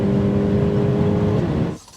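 A Ferrari 488 Pista with a twin-turbo V8 roars loudly and continuously on a curvy road, a dense steady engine drone that cuts off abruptly near the end.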